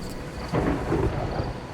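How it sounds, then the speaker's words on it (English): Rolling thunder from a storm over the sea rumbles continuously beneath steady rain, swelling into a deeper roll about halfway through before settling back into a low, distant growl. "Thick clouds are rolling in from the horizon, flickering as bolts of lightning caress the distant waves."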